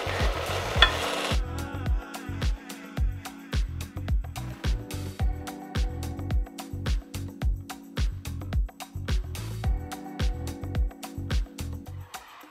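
Sweet pancake batter frying in a preheated pan, a steady sizzle broken by repeated rhythmic scraping and stirring strokes, close and moderately loud, with no voices.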